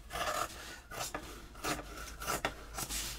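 Trimming fabric edges while sewing a travel-size zippered organizer, heard as a series of close, rasping cutting strokes in an uneven rhythm, alone without speech.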